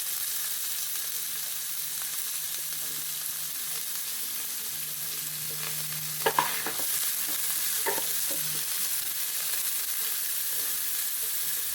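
Onions and curry leaves frying in oil, a steady close sizzle throughout with a few brief scraping stirs of a spoon partway through.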